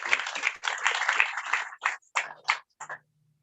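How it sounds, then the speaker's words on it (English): An audience at a Rotary Club technology hub event claps, a dense burst of applause that thins into a few scattered short claps and stops. "Please let's give them another round of applause."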